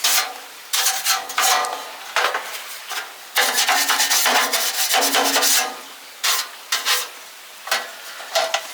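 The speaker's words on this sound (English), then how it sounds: "I may have to use some wet and dry first." Wet and dry sandpaper is rubbed by hand on an old roof in short, irregular scratchy strokes, with bursts of rasping friction separated by brief pauses, close and moderately loud, with no voices.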